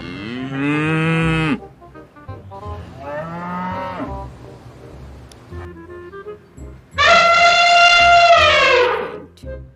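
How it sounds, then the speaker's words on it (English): A cow moos loudly three times, each a long, drawn-out bellow with short quieter gaps between them and faint low background noise. "The cow is found all over the world."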